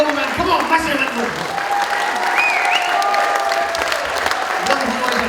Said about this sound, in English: Come on, massive applause.